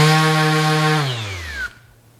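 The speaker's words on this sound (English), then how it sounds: "you'll notice how quickly that spins down because of the brushless motor" A MAXXT 6-inch brushless random orbit sander winds down from full speed, its steady motor whine sliding smoothly lower in pitch and cutting off within about two seconds, close and loud.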